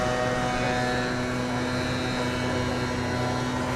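Delta jet airliner taking off at DFW Airport, heard as a steady, loud broadband engine roar with a low hum that holds constant throughout.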